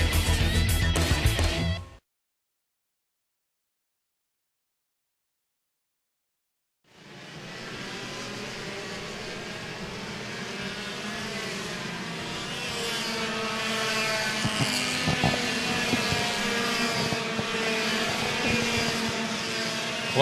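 Racing karts with Fisher racing engines run a warm-up session on a pro kart series track. A loud burst of engine noise cuts to several seconds of silence, then a steady, buzzing drone of distant karts holds to the end.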